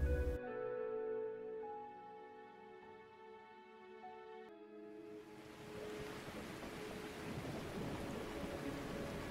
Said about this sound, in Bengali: ঝড় বৃষ্টির রাতে ঠান্ডাটা বেশ জাঁকিয়ে পড়েছে।